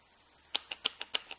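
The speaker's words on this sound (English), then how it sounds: "Use buttons that sound like this" Push buttons for an Arduino MIDI controller clicking six times in an uneven sequence, each a crisp, close, sharp click standing alone against quiet.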